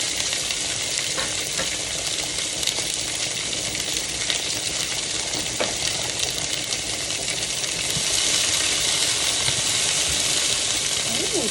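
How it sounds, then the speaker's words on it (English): Chopped vegetables fry in oil in a pan for chicken scampi, a loud, continuous close sizzle with occasional stirring scrapes throughout. "I'm gonna add a little bit more oil. And then, same pan, all of the cut up veggies, okay?"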